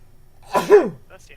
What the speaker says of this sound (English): We hear sneezing. Somebody sneezes.